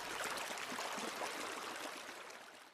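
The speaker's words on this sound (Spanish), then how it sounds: "el murmullo del río y las piedras" A river murmurs over stones in a steady, faint, continuous wash of flowing water with no voices.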